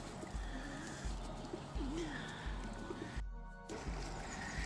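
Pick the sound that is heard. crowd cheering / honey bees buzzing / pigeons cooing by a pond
pigeons cooing by a pond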